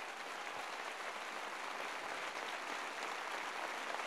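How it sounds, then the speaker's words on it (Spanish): A studio audience at a Mexican television program applauds steadily, a dense, even wash of clapping that holds for the full four seconds with no voices above it. "les pido un aplauso para Víctor Hugo Rascón Banda"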